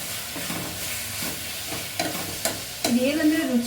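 A tomato frying in hot tempering oil, giving a soft sizzle with a few stirring scrapes, then a louder crackling burst near the end.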